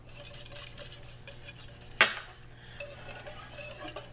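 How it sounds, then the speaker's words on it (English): Whisk scraping and clinking in a bowl of bread pudding mixture with nutmeg, cinnamon and vanilla, soft steady stirring taps with one sharper clink midway, close and fairly quiet over a low background hum. "whisk until everything is well combined"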